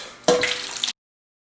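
Two cups of water poured into a hotel pan of whole chicken, a short close splashing pour of under a second that starts abruptly and cuts off into silence.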